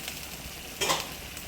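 Oyster-sauce fish fries in a pan with a steady hiss of sizzling oil, and a brief louder flare of spattering partway through.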